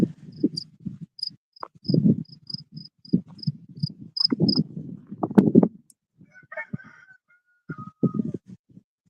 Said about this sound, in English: Okay, there was a cricket here chirping.